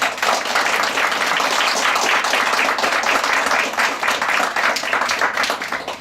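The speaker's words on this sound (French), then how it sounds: "Je voudrais qu'on applaudisse très fort Madame Annie Davray, qui est là." Loud, sustained applause from an audience at a Paris baguette award ceremony, thick and steady clapping filling the whole clip.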